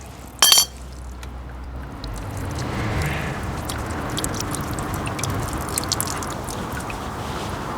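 Water runs and trickles steadily from a leaking outside garden tap, a continuous close splashing hiss that follows a single sharp metallic clink at the start.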